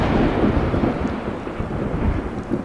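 Thunder rumbles through a rainstorm, a deep, continuous low roll beneath a steady hiss of falling rain, swelling and easing slightly over a few seconds, with no voices.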